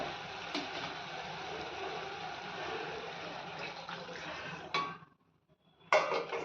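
Heated water runs steadily into a pot of village-style mutton curry, a continuous close pour over several seconds that cuts off briefly and then resumes with a clink of metal.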